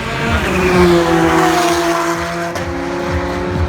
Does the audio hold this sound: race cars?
yes